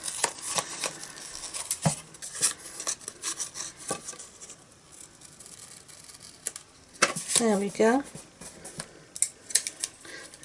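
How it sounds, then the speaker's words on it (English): Scissors snip and rasp through stiff card in irregular bursts, close up, trimming excess, with a brief spoken remark partway through. "I'm just going to cut off the excess now with my scissors."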